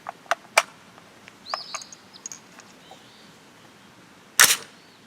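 Subsonic 300 Blackout rifle loads with Hornady A-Max 208-grain bullets: a few small clicks and ticks, then one sharp, loud crack near the end, with no talk.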